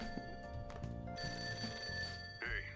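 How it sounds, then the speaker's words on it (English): Telephone ringing inside the video game Persona 5 Royal, a steady electronic ring tone repeating through a busy game-music background, with no talk over it. "He actually will do it while the phone's ringing?"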